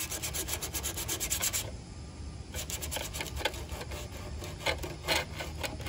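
Steady hand sanding in a workshop, a continuous dry rasping rub with brief pauses, close and moderately loud.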